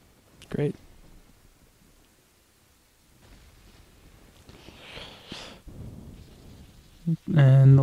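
Thunder and lightning in the video game The Legend of Zelda: Ocarina of Time. Low, hissing rumbles swell in the middle of the clip, and a loud, sudden crack hits at the very end, over an otherwise quiet background.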